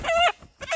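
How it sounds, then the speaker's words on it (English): A jumbo Cornish Cross hen, eleven weeks old, clucks close by on a farm: two short bursts of raspy, agitated vocal calls separated by a brief pause. "We got a nice female hen here."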